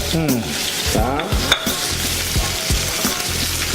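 Three cubes of butter sizzling in a hot pan during basting, a steady crackling fry with spoon scrapes and clinks against the pan, close and fairly loud, no speech.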